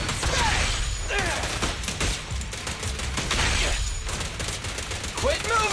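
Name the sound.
gunfire from a video game, Zenless Zone Zero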